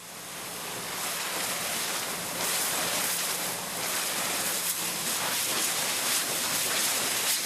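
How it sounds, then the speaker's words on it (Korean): A high-pressure seawater sprayer cleans mussel-covered nets at a mackerel fish farm, giving a loud, steady broadband hiss and rush that continues without a break, with no voices. "그물 청소는 바닷물을 이용한 고압 분사기로 이루어진다."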